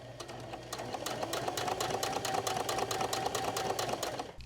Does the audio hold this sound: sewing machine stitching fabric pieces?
yes